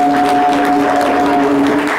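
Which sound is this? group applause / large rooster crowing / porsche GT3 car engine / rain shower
group applause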